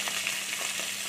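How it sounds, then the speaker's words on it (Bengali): Potatoes fry in hot oil in a wok, giving a steady close sizzle with a few small pops and no voices. "আলুগুলো একটু ভেজে নিচ্ছি।"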